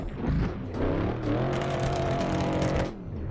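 A BMW E36 engine in Assetto Corsa drifting on a snowy road, revving hard with a rising, buzzing tone held for several seconds before easing off, loud and close.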